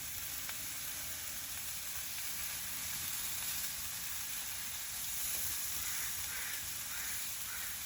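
Pork BBQ skewers brushed with sauce sizzle on a grill over medium-low heat, a steady soft hiss without pause and no talking.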